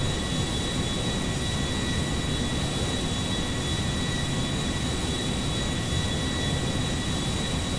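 Steady, loud engine drone of an airplane flying in the video game GTA 5, a broad continuous roar with a faint high whine running unchanged throughout, no talking.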